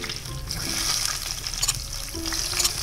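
Chilies and spices sizzle and crackle as a tempering in hot oil, a steady frying hiss with occasional brighter pops, close up and without talk.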